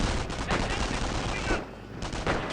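Dense, continuous battlefield gunfire from the Company of Heroes mobile game, with rapid rifle and machine-gun bursts and explosions layered throughout. Anti-tank gun and grenadier units face riflemen. A brief dip in the middle, a voice faintly under the din.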